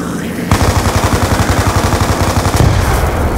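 Rapid automatic gunfire in Call of Duty Black Ops 2 Zombies, a steady close burst of fast repeated shots running for several seconds after a brief quiet start.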